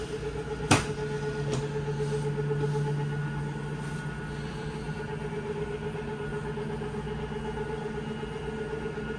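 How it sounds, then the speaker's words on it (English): Electric slide room motor on a 2024 Forest River Salem Hemisphere 286RL fifth wheel RV running the door side slide out: a sharp click at the start, then a steady low motor hum and mechanical drone for several seconds. "The third toggle switch, when you push it to go out, runs the door side slide room out."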